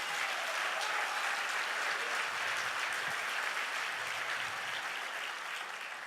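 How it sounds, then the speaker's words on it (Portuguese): Congregation applauding at a packed church gathering of leaders, a steady dense wash of clapping from a large crowd, sustained and even throughout with no talk over it. "Vamos aplaudir Jesus por isso?"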